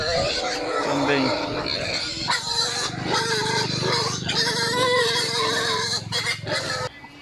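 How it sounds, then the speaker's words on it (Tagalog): Goats on a farm bleat in repeated calls over rural background noise, with a person talking throughout. "Kambing."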